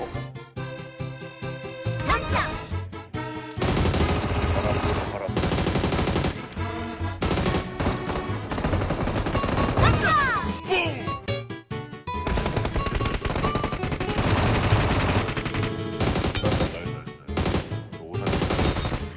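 Lynx machine gun firing in a battle royale shooter game, loud rapid bursts of automatic fire repeating across the whole stretch with short gaps between volleys and faint game sounds underneath.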